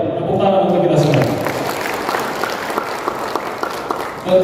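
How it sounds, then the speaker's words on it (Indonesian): Applause rises from the audience at a ceremony installing regional officers across Papua, a dense patter of clapping that carries on steadily over several seconds after a voice fades out at the start. "Tepuk tangan untuk kita semua"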